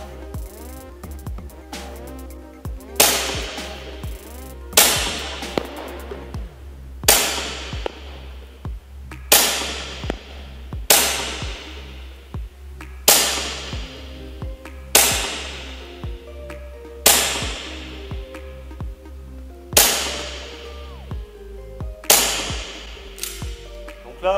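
A Gladius 17 airsoft replica fires BBs at a dummy, each shot a sharp, loud crack with a quick decay. About a dozen shots land at a steady pace of roughly one every two seconds over a constant low hum.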